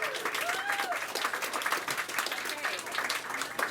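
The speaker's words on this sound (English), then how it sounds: "Can I get a big round of applause for Silliman Soloway?" A crowd applauds steadily throughout, dense clapping filling the room at a consistent moderate loudness.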